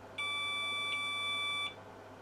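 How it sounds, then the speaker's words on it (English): A single electronic BIOS beep tone from a Cambridge Micro Computers 486DX-33 with its video card removed sounds for about a second and a half, clear and steady over a faint background hum. "two short beeps"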